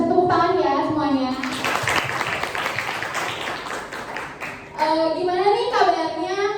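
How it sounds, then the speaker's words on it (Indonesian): Seminar audience clapping in a broadband burst of hands lasting about three seconds, framed by a speaker's voice before and after. "Bisa tepuk tangan ya semuanya"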